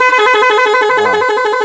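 A loud 18-tone magic car horn blares right up close, switching to a different tone partway through a sustained musical blast with no speech.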